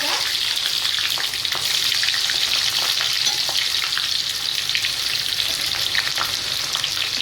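French fries deep-frying in hot oil, a dense, continuous bubbling sizzle that stays loud and close throughout with no talking.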